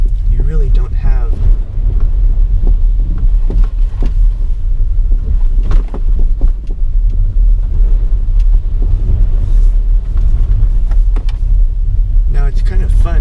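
A 2021 Audi e-tron Sportback drives and slides through mud, heard as a heavy continuous low rumble with road and cabin noise, punctuated by thumps and scrapes; a person talks over it throughout.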